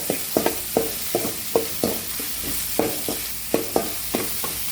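Kothu parotta ingredients sautéing in a pan, stirred with a steady rhythm of scraping strokes over a constant sizzle, close and loud, with no talking.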